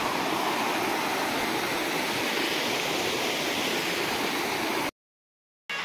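A waterfall roars as a dense, steady rush of falling water, loud and unbroken for about five seconds before cutting out abruptly.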